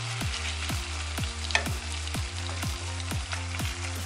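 Young zucchini and garlic sizzle in a frying pan, a steady crackling fry with regular soft scraping or stirring strokes repeating about twice a second.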